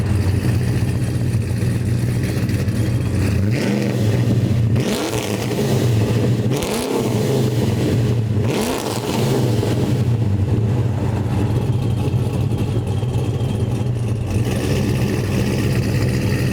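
A car with an aftermarket exhaust idles with a deep, throaty exhaust rumble, blipped into a few short revs partway through, loud and close.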